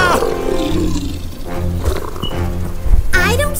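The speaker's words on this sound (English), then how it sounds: "I don't think it's us the tiger's mad at" An angry tiger gives a loud, sustained roar right up close, growling and rumbling throughout and rising to a harsher snarl near the end.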